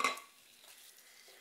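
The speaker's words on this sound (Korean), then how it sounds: "지글지글하죠." Meat coated in egg white and starch fries over low heat in a wok for Chinese-style pepper japchae, giving a quiet, steady sizzle after a brief utensil clatter at the start.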